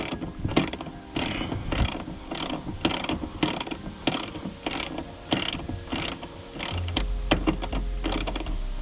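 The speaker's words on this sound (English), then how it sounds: "Go ahead, wrench on that." A ratchet wrench works a 17 mm seatbelt bolt inside a Honda Prelude, giving a steady run of about a dozen close, sharp clicks, followed by a low rumble near the end.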